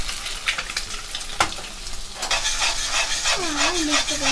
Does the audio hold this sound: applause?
no